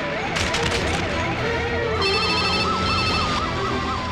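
A wailing ambulance siren in a Tamil comedy scene, rising and falling in a steady warble over a continuous mix of voices and background noise, clearest in the second half.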